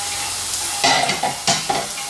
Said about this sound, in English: That's what they look like when they're frying.